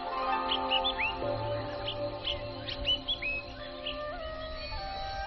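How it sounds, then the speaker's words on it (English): Birds chirp and call in the distance on a mountain in the morning, with repeated short tweets and whistled notes scattered over a steady background hum. "all you can hear are the sounds of your own footsteps and the birds"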